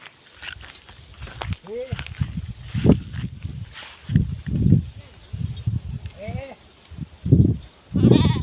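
Several sheep bleat in repeated wavering calls, close by, with shuffling and a voice or two in the background.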